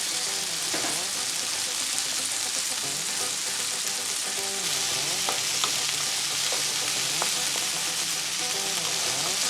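Okra and sweet peppers fry in oil in a pot, giving a loud, steady, close sizzle with a constant crackling hiss and occasional stirring knocks throughout.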